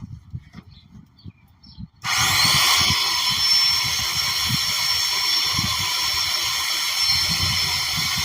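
A power tool cuts through scrap wooden boards for a sword board. After about two seconds of near quiet it starts abruptly with a loud, steady, close whine that runs to the end.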